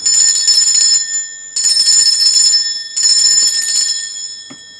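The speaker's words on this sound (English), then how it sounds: "I'm going to be ringing this bell." A handheld bell rung in three long bursts, bright, sustained and loud up close, each ring shimmering for about a second before a brief pause, ending with a soft tap.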